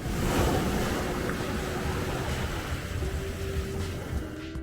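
Ocean waves on a beach in the Philippines at dusk, a steady, dense roar of surf with wind rumble, continuous and fairly loud throughout, no voices.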